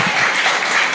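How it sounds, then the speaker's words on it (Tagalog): Church congregation clapping together in a short, dense burst of applause that fills the room, loud and close. "Sige, palakpak."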